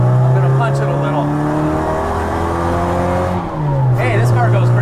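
A 1275cc Mini Cooper on a new subframe accelerates hard, its engine note climbing steadily through the revs with a shift near the end, loud and close from inside the car, with a voice briefly in the background.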